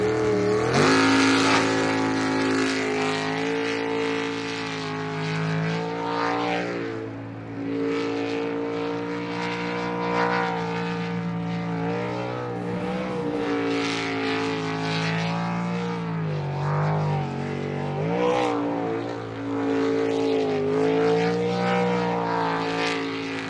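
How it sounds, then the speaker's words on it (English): A sport race boat powered by a 410 cubic inch Chevy engine roars continuously at high revs during a pro series race in Yakima, Washington, its loud droning engine tone rising and falling throughout. "410 cubic inch Chevy motor inside the cockpit of that hull."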